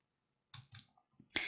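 A computer mouse clicks during spreadsheet work, a few quiet, sharp close taps in quick succession followed by a slightly louder click, with no voices.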